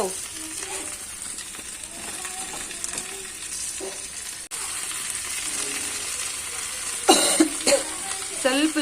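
Okra (ladies finger) frying in a pan for a palya side dish, a steady close sizzle with occasional stirring scrapes throughout, and a brief cough-like burst and clatter near the end.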